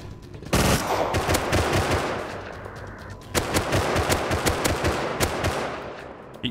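Rapid bursts of gunfire in the survival game Rust, loud and close, with dense automatic shots crackling through an indoor stairwell fight, pausing briefly then resuming in sharp repeated volleys.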